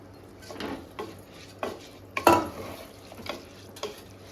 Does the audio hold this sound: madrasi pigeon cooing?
no